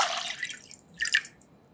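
Water poured into a pan in a kitchen for anchovy broth: a short splashing pour, a pause, then a second brief trickling splash, close and fairly quiet.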